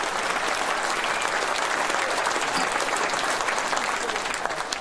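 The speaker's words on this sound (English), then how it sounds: "You can clap for that." Steady, dense applause from a large political conference crowd, loud and sustained throughout without pause.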